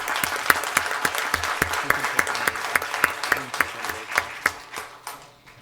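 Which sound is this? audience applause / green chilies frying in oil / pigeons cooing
audience applause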